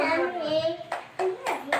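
A few sharp hand claps ring out near the end, close and clear, following a stretch where a voice is speaking or singing.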